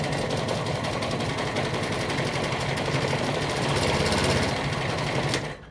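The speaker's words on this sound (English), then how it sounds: "So the blade moves up and down in a reciprocating sawing action like this." An electric reciprocating piercing saw fitted with a fine 1mm blade buzzes in a rapid, steady up-and-down rhythm close by, running continuously before cutting off abruptly at the end.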